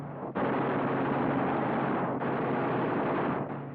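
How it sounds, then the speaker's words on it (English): Machine gun fire from the eight guns of a WWII P-47 Thunderbolt fighter, shown as a dense, continuous roar of rapid shots in two long bursts, loud and close, with a brief break between them. "Cyclic rate of fire, 800 rounds a minute. You've got 8 guns, 106 bullets a second."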